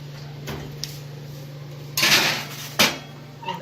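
A metal tray of strawberry cookies slides onto an oven rack, with a brief scrape and then a louder clatter and thump as the oven door shuts, over a constant low appliance hum.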